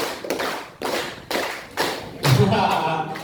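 A group of students at a junior high school orientation day in Jakarta claps together in a led call-and-response pattern, giving a few loud, sharp bursts in a steady rhythm with short gaps between them.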